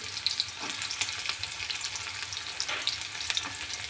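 Onion and roasted peanuts sautéing in oil tempered with mustard seeds, a steady close sizzle with light crackles and faint scraping from stirring, no talking.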